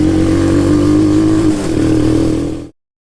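A Shineray 250 quad accelerates up close, its engine holding a loud, buzzing drone that dips briefly midway as it grips, then climbs again before cutting off abruptly.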